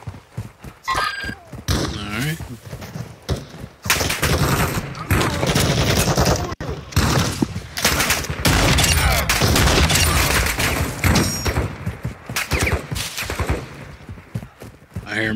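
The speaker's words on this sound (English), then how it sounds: "I hear him shooting." Video game gunfire in bursts, mixed with horse sounds, neighing and hoofbeats, loud and dense throughout, with voices talking over the action.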